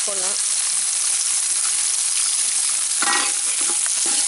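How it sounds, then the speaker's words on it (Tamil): Garlic and onions sauté in a hot pan for a thandu keerai dal masiyal, with a loud, steady, dense sizzle throughout and short bursts of a voice near the start and middle. "இப்போ வந்து பூண்டு வெங்காயமெல்லாம் நல்லா வதங்கி வந்துடுச்சு"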